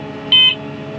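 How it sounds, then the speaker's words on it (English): An alarm beeps inside the cab of a farm sprayer vehicle in the field, giving one short, bright electronic beep over a steady engine drone. "that alarm is going off about every 10 seconds"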